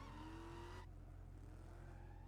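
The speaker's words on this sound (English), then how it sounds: "Let's mog him with the Batmobile" The Batmobile driving in the Lego Batman video game, a steady engine roar with a brief rising whine that cuts off abruptly, leaving a lower continuous motor hum.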